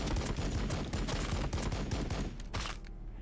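Units fire in the strategy game Warhammer 40,000: Battlesector, a dense rattling fusillade of rapid gunshots that rolls on continuously and then cuts off sharply near the end, with no talking.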